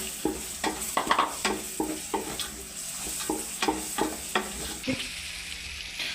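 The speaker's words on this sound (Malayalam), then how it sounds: "അടുത്ത തന്നെ സവാള നമ്മളിടുകയാണ്." Onions go into chili and ginger-garlic paste frying in a pan, followed by repeated close scraping stirs with a brief clatter near the end over a continuous sizzle.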